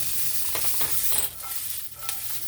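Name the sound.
butter melting and sizzling in a pan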